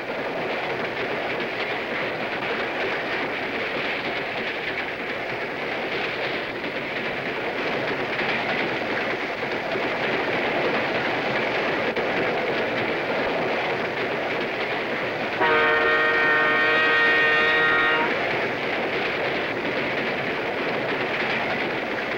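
A long passenger train with a trail of coaches rumbles steadily along the rails with a continuous roar, and a harmonic horn-like tone sounds for a few seconds partway through.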